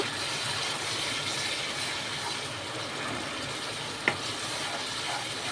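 Coriander powder is stirred into a frying mixture in a pan, giving a soft, continuous sizzle with faint stirring scrapes and one sharp clink of a utensil near the end.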